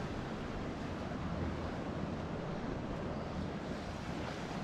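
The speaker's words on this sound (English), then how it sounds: "I'm just going to walk up to the sea because you'll be able to hear the waves." Sea waves washing onto the shore beside the Portixol promenade, a steady broadband surf roar with wind buffeting the microphone, continuous and fairly loud with no distinct individual breakers.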